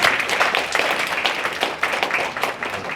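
A ceremony audience claps in thanks for their parents, a dense, steady wash of applause from many hands, moderately loud and continuous throughout.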